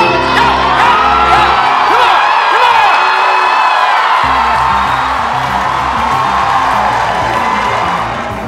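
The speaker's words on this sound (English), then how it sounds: "The crowd went crazy." Wild cheering and whooping from a large crowd at a Special Olympics powerlifting event, loud and sustained through the whole stretch, with shouts rising over a steady roar and some voices talking amid it.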